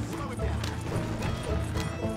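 Horse galloping in Red Dead Redemption 2, rapid rhythmic hoofbeats thudding close and loud across the whole stretch, with a brief whinny-like tone and a voice talking over it.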